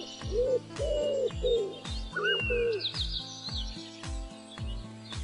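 Cartoon pigeons in a Uyghur children's animation give a few soft, rounded coos over a steady, evenly pulsing beat, with light chirpy accents and no speech.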